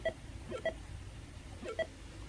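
Short electronic beeps and pulsing tones from Frogger 2 on the Atari 8-bit, faint and repeated in small clusters of blips, alone with no talking.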